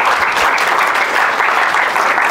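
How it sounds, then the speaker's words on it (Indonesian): A seated audience at a business talk breaks into loud, dense applause, an even roar of many hands clapping close by for a couple of seconds. "Tepuk tangan."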